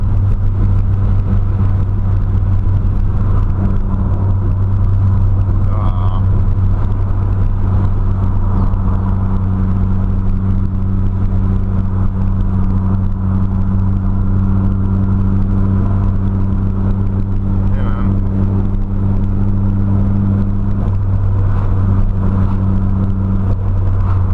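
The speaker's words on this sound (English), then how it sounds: "So for being a cheap exhaust, it does sound nice." Steady, loud drone of a Nissan Silvia PS13 with an SR20DET engine and a cheap Japspeed aftermarket exhaust cruising, a deep exhaust note, a constant low rumble with slight shifts in pitch.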